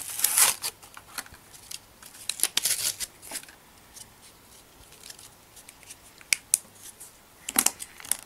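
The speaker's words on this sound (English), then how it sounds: "Good thing that I have scissors." Scissors snipping open a plastic bag around a clear putty toy, several sharp crisp cuts clustered at the start and end with plastic crinkling between, close and moderately loud, no talking.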